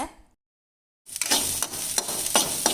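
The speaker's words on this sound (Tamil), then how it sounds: "இப்போ பூண்டு கருவேப்பிலை சேர்த்து அக்கா வதக்குறாங்க" Garlic and curry leaves hit hot oil with browned onions in a pan for coriander chutney: a near, steady sizzle and frying crackle starts abruptly after a brief quiet, with occasional stirring scrapes.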